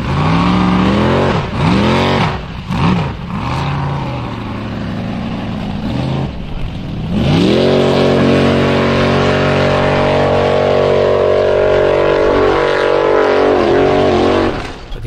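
Formula Offroad race car at Stapafell in Iceland, its engine loud and close, revving hard with rising and falling pitch sweeps early on, then settling into a steady high drone.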